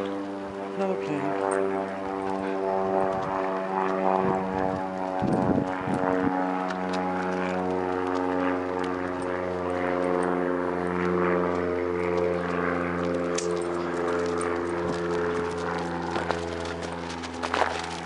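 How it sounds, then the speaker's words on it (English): Propeller airplane droning steadily overhead, a continuous layered engine hum holding throughout at moderate distance, with brief rustling and faint background noises mixed in. "Another plane."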